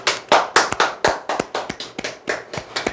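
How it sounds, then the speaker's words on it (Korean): A small group clapping hands in a few quick bursts, sharp close claps with uneven rhythm and brief gaps, no talking over them. "박수 한번 칩시다"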